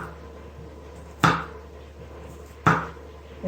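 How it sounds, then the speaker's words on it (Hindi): Garlic cloves are cut with a knife on a board in a home kitchen, two sharp, separate chops about a second and a half apart over a faint steady hum, with no talking. "इनका तड़का लगाना है लहसुन का, आपने इस तरह काटना है।"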